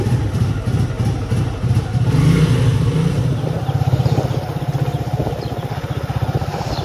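A motorcycle engine runs at the start of a ride, a loud, close, pulsing throb that rises into a brief rev and then settles into a steady rhythmic chug, with no talk.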